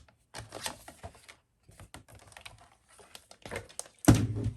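Card stock is cut for a folding card: a run of quick tapping and sliding clicks from a paper trimmer, close by, ending in a sharp louder thunk.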